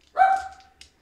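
A dog barks once in the background of a football video game broadcast, a single loud yelping bark followed by a faint short trailing sound, with no talking over it.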